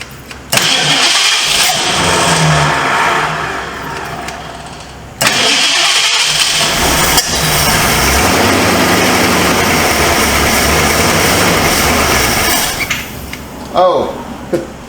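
A 1978 Ford Mustang II engine cranks with its fuel pump disconnected: loud, sustained starter grinding in two long bursts, separated by a brief pause and ending with a short sputter.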